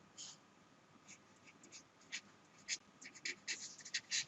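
Chalk or marker scratches and taps on a board in short, irregular strokes, faint and quickening toward the end, with no talk.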